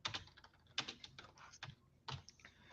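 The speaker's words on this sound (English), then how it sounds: "if you hear me typing, I'm just replying now" Computer keyboard typing, close and moderately loud, in irregular bursts of clicky keystrokes with brief pauses between clusters.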